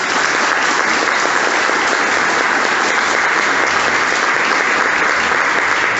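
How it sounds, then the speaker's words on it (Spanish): A church congregation at a sermon breaks into loud, dense, sustained applause that holds steady for six seconds without voices rising above it. "¿Cuánto le dan un aplauso al Señor?"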